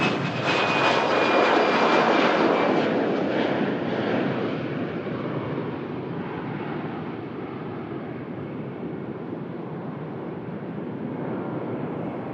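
EasyJet airliner jet engines roar on the takeoff roll at Manchester Airport, a loud, broad rushing roar that peaks early and then eases into a sustained, slightly fading drone as the aircraft moves away.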